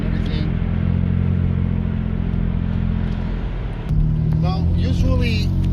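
A car with a shaking fault accelerates on a highway toward about 70 km/h, heard from inside as a loud, steady engine drone and road rumble that shifts pitch partway through, while a person talks over it.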